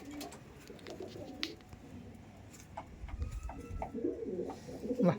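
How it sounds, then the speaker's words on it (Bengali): Andhra Madrasi pigeons at a seller's loft give soft, rolling coos that swell toward the end, over a faint low rumble with no talk. "এ দেখুন পায়রা"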